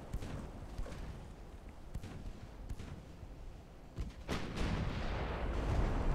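Warship guns in the naval video game Ultimate Admiral: Dreadnoughts fire a salvo of several heavy booms, scattered blasts that build into a louder rumbling cluster near the end.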